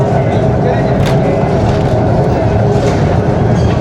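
Train riding through the tunnels of the Khewra salt mine, a loud continuous rumble and clatter of wheels on rails, close and steady throughout.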